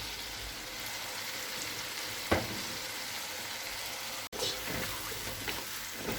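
Potatoes frying in spices in a pan for vegetable pulao, giving a soft, continuous sizzle with occasional stirring sounds.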